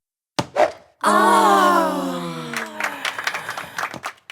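An animated cartoon audience bursts into applause after a brief thump, with loud, dense clapping that swells and then thins into scattered claps and crowd noise.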